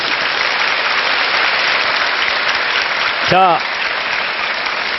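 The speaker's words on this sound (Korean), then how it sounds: "박수 한번 주세요." Steady applause from a lecture audience at a Korean talk show event, filling the whole stretch at even loudness, with a man's brief spoken word breaking in near the end.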